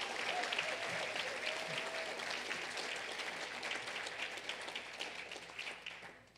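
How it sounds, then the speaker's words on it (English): An audience at a college president's executive briefing gives the volunteers a sustained round of applause: dense, even clapping that gradually thins and fades toward the end. "So another round of applause and a thanks to the volunteers."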